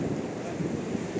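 Stormy sea surf and gusting wind along the Sudak embankment roar as a dense, continuous, close rumble with no voices.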